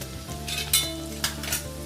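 Garlic sizzles steadily in hot oil in a pan, added after cinnamon sticks while making a kachori curry. A few light utensil clicks from stirring are heard over a low, even hum.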